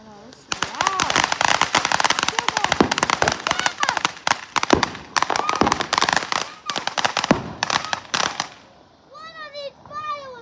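Fourth of July fireworks going off in a street, a dense barrage of loud, close cracking bangs and crackle for most of the span, with excited voices talking and exclaiming throughout and a calmer stretch of speech at the end.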